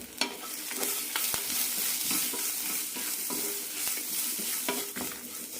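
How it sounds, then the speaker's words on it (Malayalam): Asafoetida and a small piece of tamarind sautéing in hot oil for a lady's finger chammanthi. Steady close sizzling continues throughout, with frequent light stirring scrapes and taps of a spatula against the pan. "ഒരു ചെറിയ കഷ്ണം പുളിയും നന്നായി വഴറ്റാം"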